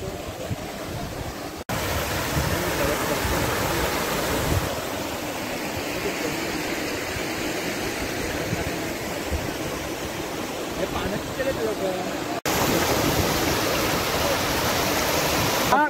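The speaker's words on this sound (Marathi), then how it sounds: "एक्स्ट्रा पाणी हे असं धबधब्यासारखं खाली वाहतं" Overflow water from Khar Amboli dam near Murud Janjira pours down like a waterfall, a loud, steady, close rushing roar that fills the whole stretch, with brief cuts where the sound drops out.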